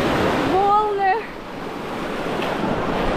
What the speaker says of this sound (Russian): Здесь водичка чистенькая, волны.